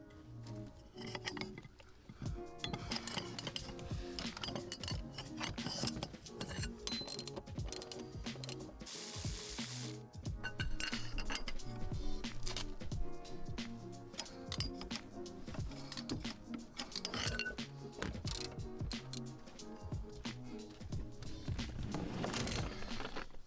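Ratchet wrench with a T50 star bit backing out tight seat belt bolts on a Toyota Corolla, producing fast, repeated clicking bursts up close with metallic clinks and short pauses between strokes, no talking.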